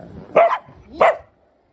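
A dog barks twice, close and loud, with a brief pause between the two barks, then silence.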